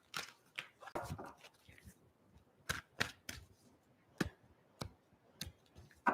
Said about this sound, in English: I feel like I need to shuffle this way one more time.